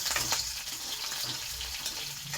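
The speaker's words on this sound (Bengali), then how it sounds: "চিংড়ি মাছগুলো তেলে দিয়ে দিই" Shrimp frying in hot oil with black cumin, a soft continuous sizzle with faint bubbling and low clatter nearby, no talking.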